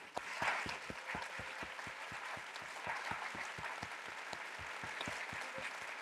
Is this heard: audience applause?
yes